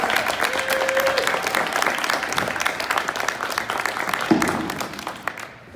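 A crowd applauds a state champion cheer team at a morning celebration with parents in the stands, with sustained, loud, close clapping, a brief whistle-like tone early on, and the noise tapering off near the end.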